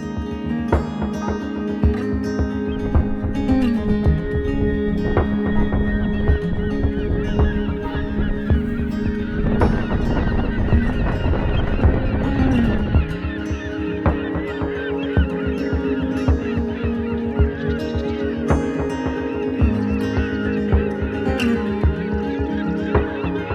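A dense seabird colony on the cliffs of Runde island in Norway, northern gannets among them, keeps up a loud, continuous din of overlapping honking, cackling calls, swelling into a thicker chorus midway.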